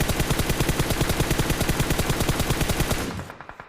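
Rapid, continuous automatic gunfire in a video game with a steady rhythm of sharp bursts, loud and close, tapering off into a few scattered shots at the end.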